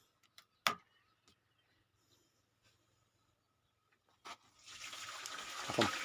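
Water from a submersible pump pipe rushes and splashes steadily in the last two seconds, nearby and moderately loud, after a few sharp clicks and knocks over near-silence.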